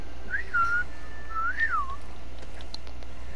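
A person whistles two rising-and-falling tuneful phrases close to the mic, with a steady low hum underneath and no talking.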